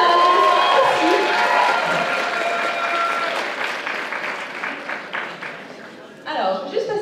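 A convention audience claps and cheers at a cosplay award ceremony, a dense burst of applause with scattered whoops that gradually tapers, before a voice speaks over the fading claps at the end.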